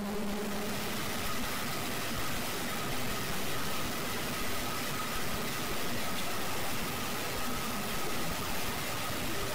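Sewing machine stitching a shirt collar with a paper strip along the fabric, running as a steady, continuous motor whir that stays loud and unbroken throughout.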